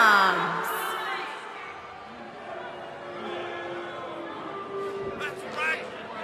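A wrestling event crowd roars and cheers in a packed arena, a steady wash of shouts and whoops with a few louder swells near the end, voices mixed in throughout.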